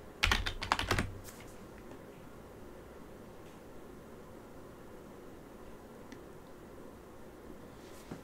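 A password is typed on a computer keyboard at an Ubuntu login screen, a quick close flurry of key clicks lasting about a second, followed by quiet room hiss.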